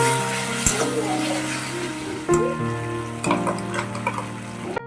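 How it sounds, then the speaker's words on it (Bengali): Spice paste with salt and turmeric sizzles in oil in a wok, a steady crackling fry with occasional stirring scrapes, close and fairly loud against a background hum. "এই যে পেস্ট করা মশলাটা দিয়ে নুন হলুদ দিয়ে এখন না মশলাটা ভালো করে একদম কষিয়ে নেব"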